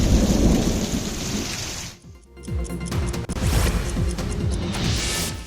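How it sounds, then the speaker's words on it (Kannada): Heavy rain pours down steadily while cracks and long rolling rumbles of thunder break out repeatedly, close and loud, in a downpour with lightning. "ಗುಡುಗು ಮಿಂಚು ಸಹಿತ ಧಾರಾಕಾರವಾಗಿ ಮಳೆ ಸುರಿದಿದ್ದು"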